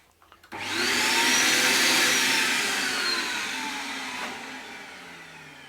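A shop vac starts up with a sudden loud whoosh after a few soft clicks, then runs as a steady, close motor roar and airflow that eases off slightly toward the end, heard during guitar fretboard work.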